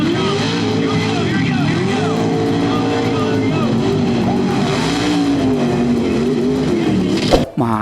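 A toy monster truck's engine sound effect gives a loud, continuous revving roar whose pitch wobbles up and down, ending in a brief abrupt clatter.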